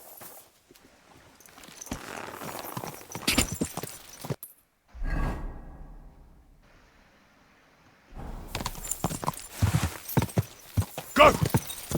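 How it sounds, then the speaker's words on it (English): Horse hooves in the video game Kingdom Come: Deliverance II clip-clop in bursts of rapid, uneven steps, separated by a brief pause and a quieter rustling stretch, fairly close. "There's my horse. There it is."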